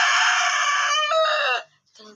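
A rooster crows loudly and close in one long, strained call lasting about a second and a half, then breaks off into brief quieter clucking after a short pause.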